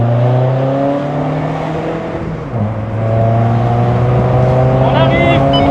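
A Peugeot 308 with a 2.0-litre BlueHDi diesel engine and stage 2 tune drones steadily from close by in traffic at a roundabout, its engine and exhaust note dipping midway, then settling back to a loud, even hum.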